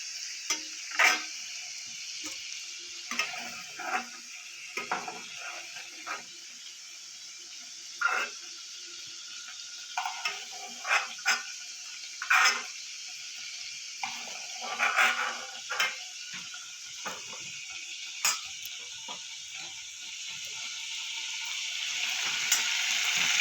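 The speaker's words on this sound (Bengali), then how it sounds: "চিংড়ি মাছগুলো আমার হালকা করে ভেজে নিয়েছি খুব কড়া করবো না" Prawns fry lightly in hot oil with a faint, thin sizzle, broken by scattered spoon taps and scrapes against the pan, quiet and without voices.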